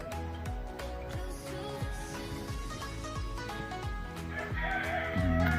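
Chickens in a clean farm pen crow and cluck repeatedly, with several sharp rhythmic calls overlapping; a longer, louder crow swells near the end, all close and prominent.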